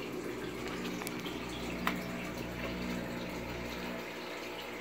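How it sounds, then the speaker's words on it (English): Aquarium air bubbler and agitated water surface in fish tanks during a power outage, a steady close churning, bubbling wash over a low pump hum, with one brief click partway through. "We have bubbles and surface agitation there"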